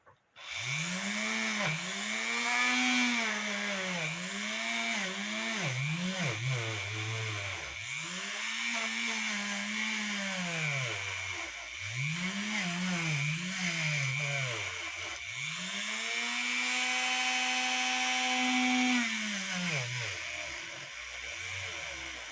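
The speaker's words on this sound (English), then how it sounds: "I'm taking my Dremel to the entry and escapement sections of this birch assembly" A Dremel rotary tool bites into birch wood, trimming the entry and escapement sections of a GK railroad cuckoo clock, its pitch sagging and rising in repeated loaded strokes with a steady high whine throughout, close and loud.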